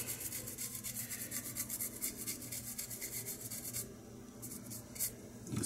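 Contact cleaner is brushed over a dirty thermostat circuit board, a steady close scrubbing and rubbing that repeats in quick strokes with a faint spray hiss, nobody talking.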